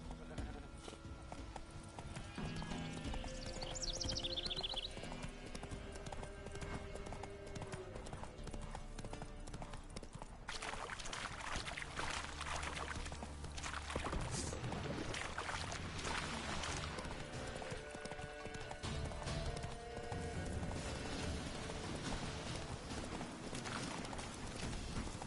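A horse in The Witcher 3 game trots with steady clip-clopping hooves beneath ongoing talk and ambient game sound, with a faint whinny early on.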